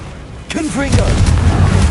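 A Confringo fire spell blasts in the Hogwarts Legacy video game, a sudden loud boom with crackling, rumbling tail, as a voice shouts over the start of the explosion.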